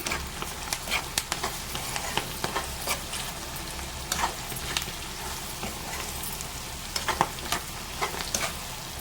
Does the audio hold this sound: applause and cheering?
no